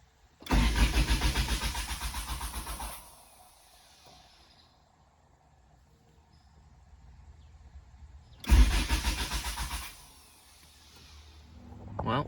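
A hot rod engine cranks twice without catching: two loud, close bursts of rapid starter churning, each lasting about two to three seconds, separated by a quiet pause, with no talk.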